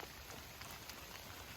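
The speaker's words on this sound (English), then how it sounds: "It's raining." Steady rain falls in the timber of a rainforest, a soft continuous hiss of drops on leaves and surfaces with no talk, close and even throughout.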